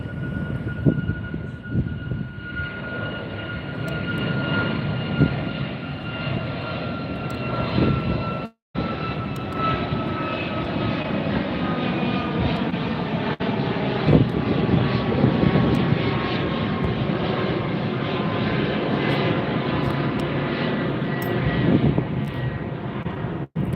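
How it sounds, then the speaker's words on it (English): A Southwest Airlines jet departs LAX, heard from the beach, its engine roar loud and steady for the whole stretch, with a sustained whine over the deep rumble and a brief cut partway through. "we've got another departure. Southwest again."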